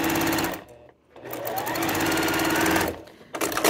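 Sewing machine stitching quilt sashing: a loud, rapid mechanical whirring run, a short pause, another long burst, then a brief restart, heard close up.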